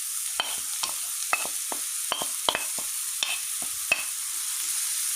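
A spoon stirs carrots frying in a pan: a steady, quiet sizzle runs underneath while a string of sharp scrapes and clinks lands at irregular intervals, close by and with no voices.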